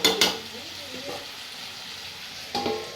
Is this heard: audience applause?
no